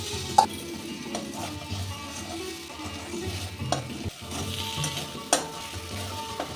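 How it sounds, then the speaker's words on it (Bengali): Cauliflower and fried onion are stirred into spiced masala in a hot pan, giving a steady sizzle broken by occasional spatula scrapes and knocks, with no voices. "মশলার সাথে ফুলকপিটাও একটু কষে নেব"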